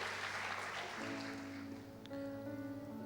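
Applause rustles at moderate volume in a church service and fades as sustained organ or keyboard chords rise and hold underneath.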